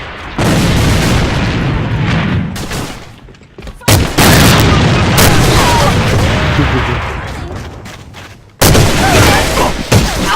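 Loud, close bursts of gunfire and booming grenade explosions in a video game, dense repeated blasts with sharp onsets and brief gaps between volleys.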